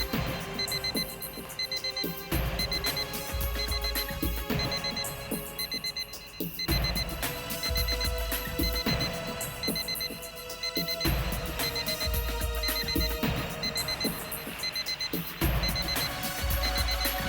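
An alarm on a suspected bomb rings continuously in a rapid, high-pitched electronic pattern of repeated bursts, loud and unbroken, with no voices.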